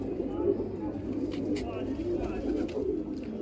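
Pigeons of the Baba Janta Alamwal breed cooing softly and repeatedly nearby, with low murmuring voices in the background.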